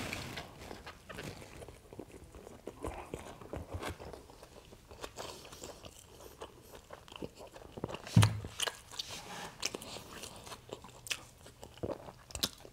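Someone bites into and chews a regular taco during a Mexican food mukbang, soft crunches and wet chewing close to the mic, with one sharper crunch partway through.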